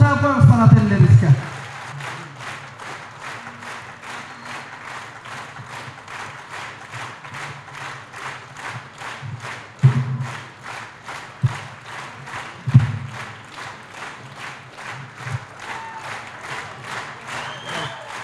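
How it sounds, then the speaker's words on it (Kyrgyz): A concert audience applauds for parents in steady, rhythmic unison clapping that carries on for the whole stretch, with a few louder claps and shouts poking through near the end. "Кол чаап коюңуздар ата энелерибизге."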